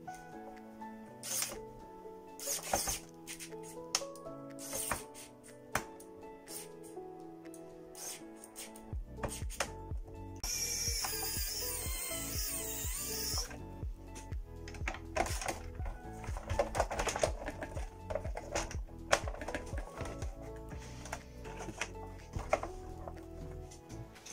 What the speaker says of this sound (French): Et là avec le petit tournevis précision, je revisse tout directement.